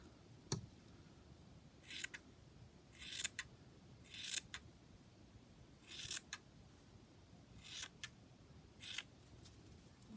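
Scissors trim the edge of a crochet baby beanie hat with a series of faint, crisp snips spaced about a second apart, close by in a quiet room.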